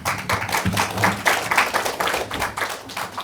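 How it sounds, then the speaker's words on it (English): An audience at a county auditor debate claps together, a dense burst of many hands applauding at moderate distance, fairly loud and sustained for a few seconds. "I haven't even started talking, they're already clapping."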